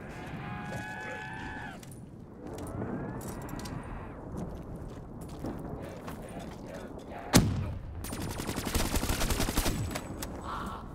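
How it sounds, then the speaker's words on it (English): Scattered gunfire in Call of Duty Black Ops 3 Zombies on the Ascension map, with a sharp loud shot followed by a stretch of rapid, crackling fire, under occasional talk and game noise. "I'm just shooting everywhere"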